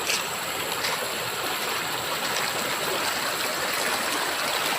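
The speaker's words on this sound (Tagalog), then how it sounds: "Yan ang ilog." Steady rushing flow of a large, deep river in Naic, broadband and continuous, close by with no pauses or voices.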